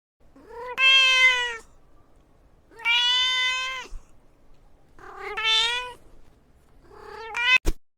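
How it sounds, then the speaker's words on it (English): A cat meows four times in clear, separate calls, each rising and falling with strong tonal harmonics, spaced about two seconds apart, close and loud with quiet gaps between. "The meow meow cat."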